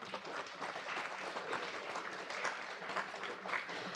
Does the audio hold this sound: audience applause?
yes